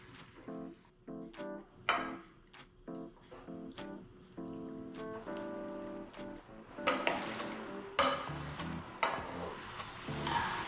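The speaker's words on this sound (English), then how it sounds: "And we're going to cook this for about 25 to 30 minutes." Pasta puttanesca sauce simmers in a pan with a soft continuous sizzle, broken up by stirring scrapes and clinks of a utensil against the pan, close and fairly quiet.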